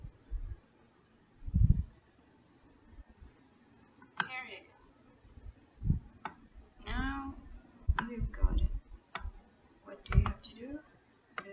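Sharp mouse clicks while working in MMD software on a computer, a handful of isolated clicks spread out with gaps, heard near and clear alongside some quiet background noises.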